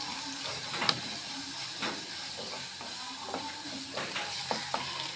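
Spoon stirring food in a pan over a faint steady sizzle, with soft scraping scrapes and light clinks spaced irregularly, quiet and close.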